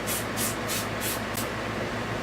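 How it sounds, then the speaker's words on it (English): Five quick spritzes of cleaner from a trigger spray bottle onto a cloth, each a short, soft hiss in an even rhythm against a quiet background. "I will take and spray me some"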